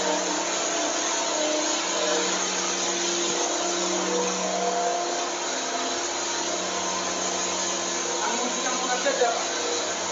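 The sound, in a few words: mixer machine mixing chicken feed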